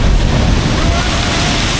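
Rough sea waves crash on Uppada beach near Kakinada, making a loud, continuous roaring wash of surf, heavily buffeted by wind noise on the microphone.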